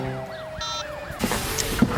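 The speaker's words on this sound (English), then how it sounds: "I hear the sirens." An emergency siren wails in repeated rising and falling sweeps, then gives way to a louder burst of clattering noise.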